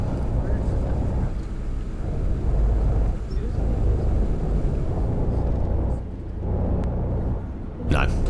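Steady engine drone and road rumble from a coach speeding along a Czech road in Fernbus Simulator, a continuous loud hum with wind-like noise throughout and a brief dip near the end.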